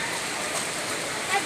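Heavy rain falls beside floodwater in Bogor, a constant rushing hiss of water that stays even and moderately loud across the moment.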